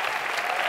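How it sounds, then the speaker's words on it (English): Audience applause from a seated crowd at a formal speaking event in the United Kingdom, a brief, dense wash of clapping heard alone. "could I please have a round of applause for my counselor, Lord Hastings"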